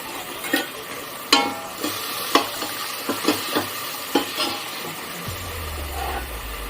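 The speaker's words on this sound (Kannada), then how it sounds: "ಸೊ ಇದನ್ನ ಚೆನ್ನಾಗಿ ಫ್ರೈ ಮಾಡೋಣ" Churumuri susla fries in oil in a pan with a continuous sizzle, punctuated by a spatula's regular scraping strokes, with a low hum entering near the end.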